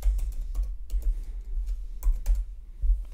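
Fast typing on a computer keyboard, with irregular bursts of sharp key clicks at close range and a steady low hum underneath, no voices.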